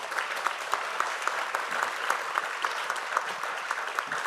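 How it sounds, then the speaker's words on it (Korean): Applause from the audience at a policy forum on youth with borderline intellectual functioning, moderately loud sustained clapping with rhythmic bursts and a faint crowd murmur. "크게 박수 한번 보내주시죠"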